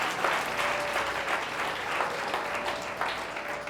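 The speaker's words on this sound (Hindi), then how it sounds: "जोर से ताली बजाएंगे प्रभु के लिए" A church congregation at a Hindi Christian worship service gives the Lord a loud round of applause, with steady, dense clapping and a few stronger surges throughout, no voices on top.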